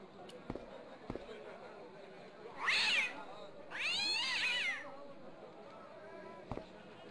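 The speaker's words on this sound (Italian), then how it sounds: "Il tuo gatto non è proprio amichevole." A cat in the Broken Sword adventure game gives two drawn-out, wavering meows a second apart, loud and clear over a low background bed with a few soft clicks.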